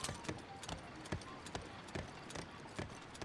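Horse galloping in Zelda: Breath of the Wild, repeated sharp hoofbeat clusters in a quick regular rhythm over rushing background noise.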